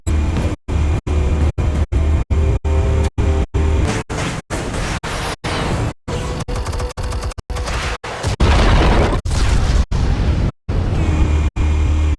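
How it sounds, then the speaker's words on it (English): Explosives detonate in Batman: The Telltale Series, a loud, dense run of booms and crashing blasts interrupted by abrupt gaps, with gunfire-like bursts, close and forceful throughout. "Explosives armed. Fire when ready."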